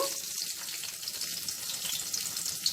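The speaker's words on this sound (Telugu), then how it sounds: "ఇప్పుడు నూనె వేడెక్కింది ఈ వెజిటబుల్స్ అన్నీ ఒకదాని తర్వాత ఒకటి వేసుకుందాము ఫస్ట్ గ్రీన్ చిల్లీస్" Green chillies dropped into hot oil in a pan while preparing masala Maggi noodles, giving a steady, bright crackling sizzle with fine popping spatters, close and continuous with no talking.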